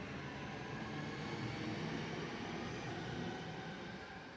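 Steady low rumble of a train idling at a station, a continuous droning hum with no clear movement or announcements.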